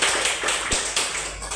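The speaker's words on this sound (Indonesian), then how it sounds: "Beri aplaus untuk Pak Beni." A short burst of clapping for Pak Beni at a gathering at the 7G Indonesia head office, with a few sharp, distinct claps standing out from softer ones and no voices.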